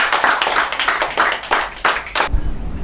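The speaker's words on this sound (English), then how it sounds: "Big round of applause, this is for you." Clapping for a graduate at a school graduation ceremony, a steady round of hand claps from a small audience in rhythmic pulses, loud and close, stopping abruptly near the end.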